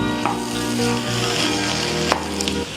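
Kappa biriyani masala is stirred in a hot pan, making a dense, continuous frying sizzle with soft scraping from the stirring. It is close and fairly loud, with no voices.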